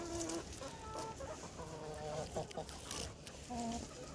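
Two young Cochin roosters cluck and murmur close by in short, tonal calls while pecking dry bean leaves, scattered over steady outdoor background noise.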